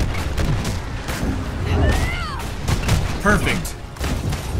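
Rapid bursts of gunfire and booming impacts from a Marvel's Avengers video game battle, dense and loud throughout, with a player talking over the action.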